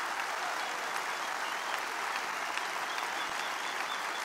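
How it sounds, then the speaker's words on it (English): An audience claps steadily at an event, a dense, continuous round of applause held at an even level throughout with no voices standing out. "Please give him a round of applause."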